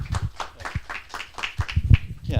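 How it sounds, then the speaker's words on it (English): Scattered applause from a conference audience greeting a speaker, individual claps loosely spaced and fairly close, a small crowd clapping briefly with no talk over it. "Please give him a round of applause."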